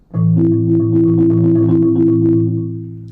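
A sustained rolled chord on a marimba rings out close and clear, held steadily for about three seconds with a soft tremolo texture before fading slightly.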